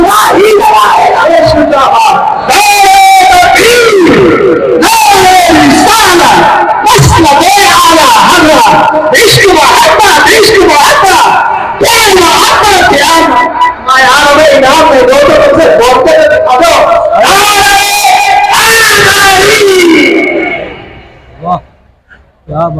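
A large crowd at a religious gathering chants Islamic slogans in loud, rhythmic bursts of massed voices and shouts that swell and break repeatedly, then drop off near the end.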